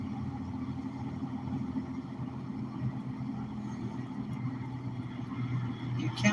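Continuous low traffic noise from many cars on a busy road by a Walmart in Destin, Florida, on Thanksgiving, a steady engine drone that swells slightly near the end.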